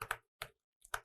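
Bursts of keystrokes on a computer keyboard while a git commit message is typed, in three short clusters of clicks separated by pauses, close and fairly clear, with no voices.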